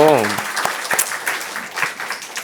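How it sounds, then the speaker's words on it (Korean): Church congregation gives a short round of applause to welcome newcomers, scattered hand claps of moderate loudness following a brief voice at the start. "새로 오신 분들 환영한다고 박수 한번"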